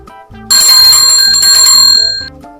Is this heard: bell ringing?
yes